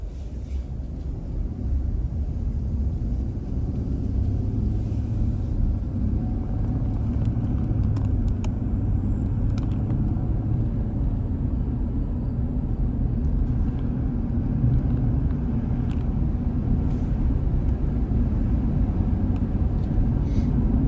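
A car cruises along back roads between Gray and Blountville, Tennessee, heard from inside as a steady, loud low rumble of engine and road noise, with faint clicks.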